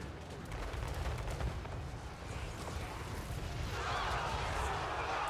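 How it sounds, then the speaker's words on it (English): Avalanche mortars fire in a Total War battle against Cathay infantry, a distant series of muffled artillery thuds and rumbles layered over battlefield ambience, growing into a broader crashing wash near the end. "The Avalanche Mortars are back to clear out the random Cathay infantry."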